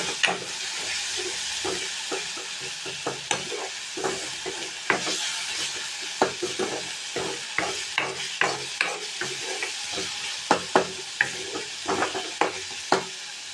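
Ingredients for a cauliflower fry sauté in a pan under a constant hiss of frying, punctuated by many sharp, rhythmic scrapes and taps of a spoon, close-up and without talking.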